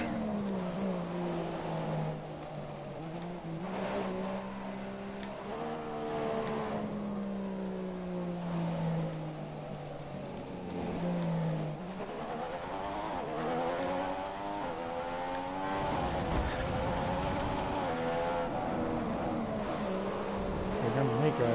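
Formula One cars racing in the F1 2015 video game, engines whining and shifting pitch as they accelerate and pass, continuous and fairly loud, with rising and falling revs and a burst of harsher noise near the end.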